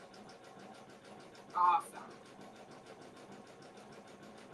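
A Janome 550E embroidery machine sews satin stitches on an in-the-hoop pencil mug rug, making a steady, rapid mechanical needle rhythm that runs throughout, with a brief spoken interjection partway through.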